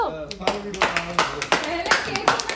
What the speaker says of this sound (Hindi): अरे कोई सा ताली तो बजा दो।